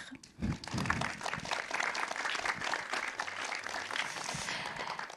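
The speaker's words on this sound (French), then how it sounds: "Je pense que vous pouvez bien les applaudir." Continuous, fairly soft applause in an auditorium at an evening science conference on aging, heard as a dense, even wash of clapping with brief voices near the start.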